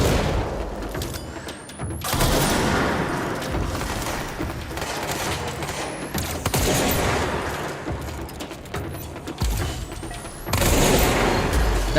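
Grenade launcher blasts in the video game Control, heavy booming shots and explosions in repeated bursts, loud and close, with gunfire texture between impacts and no talk.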